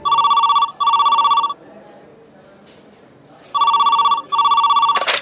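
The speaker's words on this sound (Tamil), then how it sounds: "அப்படி ஒரு பரபரப்பான வேலையில் டெலிஃபோன் மணி அடித்து கொண்டிருந்தது." Loud, close telephone bell ringing in a radio crime drama: two double-burst rings separated by a short pause, each burst a rapid trilling tone, with a brief thump at the end.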